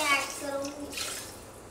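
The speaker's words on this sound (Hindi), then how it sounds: "तो मैं 1 ग्लास पानी ऐड करूँगी इसमें।" Water from a glass poured into raw rice in a pot for egg biryani, a close, steady splashing rush that gently tapers off over a couple of seconds.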